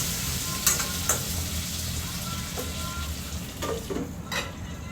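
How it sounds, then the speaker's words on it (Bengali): Potatoes frying in a pan for a home-cooked Bengali meal, a steady close sizzle running throughout, with a few sharp stirring and scraping clicks against the pan. "ফার্স্টে আমি এই যে আলুটা ভেজে নিচ্ছি"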